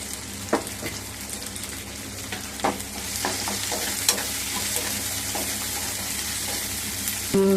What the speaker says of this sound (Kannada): ಈರುಳ್ಳಿ ಹಾಕ್ತಾಯಿದ್ದೀನಿ, ಫ್ರೈ ಮಾಡೋಣ